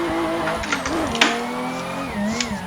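Toyota Supra engine revving through a drift, a loud, steady engine note that rises and falls with brief tire-squeal bursts, heard close from the cabin with no talk.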